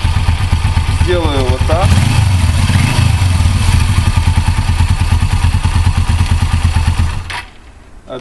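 Suzuki GS500E motorcycle engine running with a steady mid-pitched idle thump, a brief starter whir early on, then cut off near the end, with someone talking over it.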